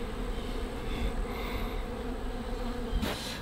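Honey bees hum around draining honey cappings set out away from the hive, a steady close swarm drone filling the whole stretch, with a brief rustle near the end and no voices.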